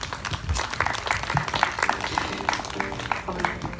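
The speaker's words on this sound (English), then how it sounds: "How about another round of applause for them?" Wedding reception guests give the newlyweds a round of applause: dense, steady clapping from a crowd in a room, holding at an even level, with some voices mixed in.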